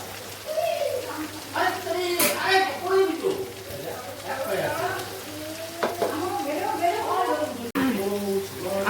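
Chicken pieces fry in a pan with bay leaf, cinnamon and cardamom, a steady close sizzle with occasional stirring scrapes while a person talks over it throughout.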